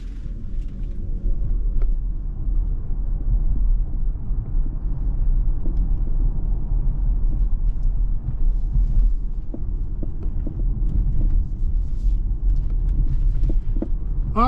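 A 2024 Jeep Wagoneer S Launch Edition 4xe electric SUV in bright white on the move, heard as a steady low cabin rumble and road hum throughout, with a few faint clicks near the end and no talking.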